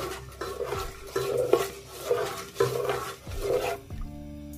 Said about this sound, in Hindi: अब हम इसमें आइसिंग शुगर शामिल करेंगे इसको आहिस्ता आहिस्ता से मिक्स कीजिए